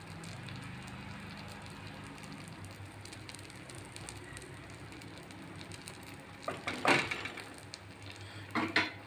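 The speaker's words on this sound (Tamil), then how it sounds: "இந்த கலக்கி வச்ச முட்டை மசாலா எல்லாம் இதில் ஊற்றணும்." Egg masala batter poured onto a dosa on a hot pan gives a steady crackling sizzle like light rain, rising to louder bursts of spattering near the end, with no talking.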